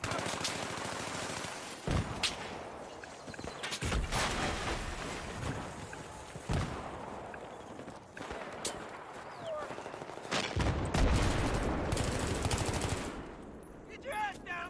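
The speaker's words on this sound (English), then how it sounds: "Who's that guy shooting at?" Gunfire in Battlefield 3 on Xbox 360: sustained machine-gun bursts and scattered shots, some close and loud, others more distant, with brief lulls between volleys and chaotic battlefield noise throughout.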